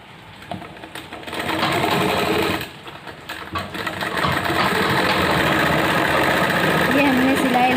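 A sewing machine runs in long steady bursts, stitching the side seam at the waist of a narrow palazzo pant, with a short pause between runs and someone talking over it.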